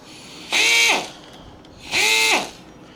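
A Matco MT2889 forward and reverse power drill whirs up in two short bursts, each spinning up, holding steady for about half a second, then winding down, with quiet pauses between.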